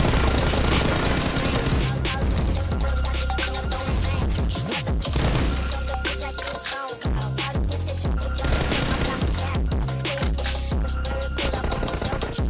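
Dense, continuous automatic gunfire from PUBG Mobile fills the whole stretch, with overlapping bursts and crashes in a loud team-deathmatch firefight, barely pausing once midway.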